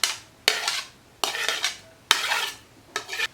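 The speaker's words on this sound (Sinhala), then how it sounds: "ඒ ටිකක් දාලා කලවම් කරගමු." A spoon scrapes and clatters against a pan while bell pepper is stirred into leftover rice, four separate scraping strokes with short pauses between them, close and fairly quiet.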